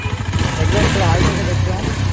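A KTM Duke 250 BS6 motorcycle idles after servicing, a steady low engine rumble close by that runs the whole time while someone talks over it.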